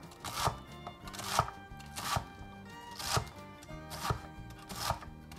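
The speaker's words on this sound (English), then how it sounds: "Once I have these all sliced, I'm going to give them a chop." Knife chopping sliced mushrooms on a cutting board, a rhythmic run of crisp quick strikes coming in about six bursts, close and fairly soft with no voices.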